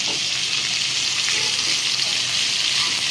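Food frying in a pan until golden brown makes a dense, even sizzle that holds constant and close throughout, with no voices over it.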